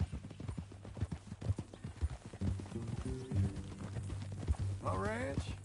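Horse hooves clip-clopping in Red Dead Redemption 2, steady rhythmic footfalls under a conversation between characters, with a brief whinny near the end.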